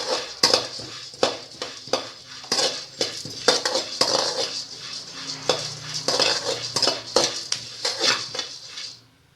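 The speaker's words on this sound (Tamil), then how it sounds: "பரபரன்னு சவுண்டு கேட்குது இல்லைங்களா" Seeds crackle as they dry roast in a hot pan, with a dense patter of sharp pops and scraping clinks from stirring, close and fairly loud, fading out at the end.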